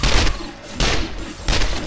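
Gunfire from a weapon in 7 Days to Die (Alpha 17): three loud, evenly spaced shots, each a sharp blast with a short rumbling tail, with no talking over them.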